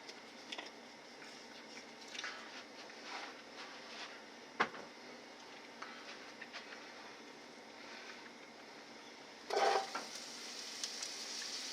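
Onions cooking in canola oil in a heated pan, a faint steady sizzle and crackle running throughout, with a few soft clinks and a louder hiss flaring up near the end.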